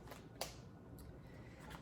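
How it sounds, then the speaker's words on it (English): Tarot cards being shuffled by hand, a few soft papery riffles and slaps close by, with a sharper snap near the start and brief quiet gaps between. "So let me put them back in here and shuffle."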